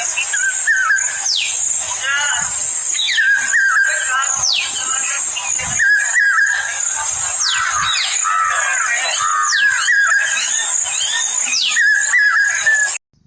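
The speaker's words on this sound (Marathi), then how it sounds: "कसा वाटला हा पावशा नावाचा पक्षी जो गात होता" Loud, dense birdsong of a pied cuckoo with repeated rising whistled calls and chattering, continuous and near, over a bright high hiss.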